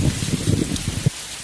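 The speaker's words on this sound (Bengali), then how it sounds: "গরম শেষ হতেই বৃষ্টি শুরু হয়ে গেল।" Rain falls in a brief, steady patter that stays close, with a few heavier drops, then quiets at the end.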